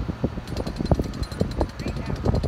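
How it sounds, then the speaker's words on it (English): Jackhammers pound in rapid, steady bursts at the base of the Oroville Dam spillway chute, a loud construction site with continuous machine clatter and wind noise. "we can hear some jackhammers that are going"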